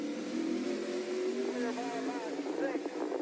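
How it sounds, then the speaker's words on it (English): A Chevrolet Silverado race truck's engine works the throttle on a race track, its tone rising and falling as it revs, with commentators talking over it. "listen to the throttle work as well on this truck"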